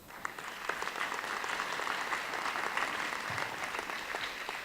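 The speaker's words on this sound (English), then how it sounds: "one more round of applause" Audience at a school district state-of-the-schools address applauding students, a dense patter of many hands clapping at moderate volume that holds steady for several seconds, with no voices over it.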